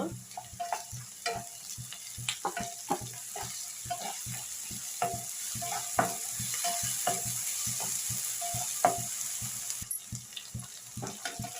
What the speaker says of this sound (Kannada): ಈರುಳ್ಳಿ ಸ್ವಲ್ಪ ಫ್ರೈ ಆಗಿದೆಯಲ್ಲ ಇವಾಗ ಶುಂಠಿ ಬೆಳ್ಳುಳ್ಳಿ ಪೇಸ್ಟ್ ಹಾಕ್ಕೊಳ್ತೀನಿ